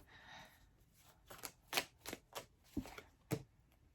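Tarot cards are shuffled quietly nearby, a run of soft riffling and tapping bursts with brief pauses between them.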